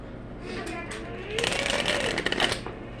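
A deck of tarot cards is shuffled at close range, a brief soft rustle followed by a loud, dense riffling burst of clicks in the second half, with a voice speaking over the start.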